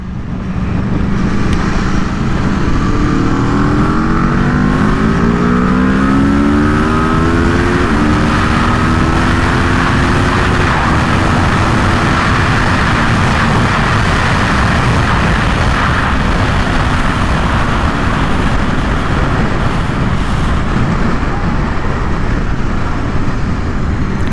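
Aprilia RSV4 Factory superbike racing down the front straight at Circuit of the Americas, its engine roaring loud and close with rising gear-change sweeps in the first seconds, then a sustained high-revving drone with heavy wind rush throughout.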